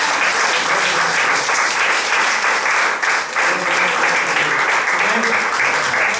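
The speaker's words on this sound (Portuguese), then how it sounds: "Recebe da nossa parte uma salva de palmas" A church congregation applauds loudly and steadily throughout, dense clapping close and full, with a faint murmur of voices underneath.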